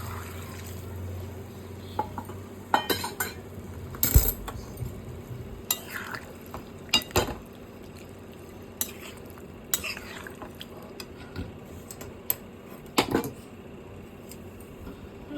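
A spoon stirs prawn curry in a pot after hot water has been poured in, producing wet sloshing and bubbling with sharp metallic scrapes and knocks against the pan at irregular intervals, no voices.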